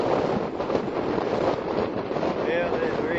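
Wind gusting outdoors during crappie fishing, a loud, continuous rushing roar buffeting the microphone across the whole stretch, with no pauses.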